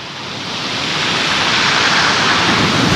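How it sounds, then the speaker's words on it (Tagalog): Ocean waves wash onto the shore at a seaside spot, a continuous broad roar of surf that swells gradually louder, with wind and no talk. "Ano yan, ano? Alon."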